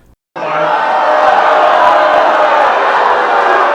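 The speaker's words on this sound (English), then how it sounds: "It was a crowd of booing at Monday night's town hall." A crowd at a town hall meeting boos loudly and continuously, a dense wall of voices starting abruptly and holding steady at close range.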